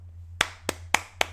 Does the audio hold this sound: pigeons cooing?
no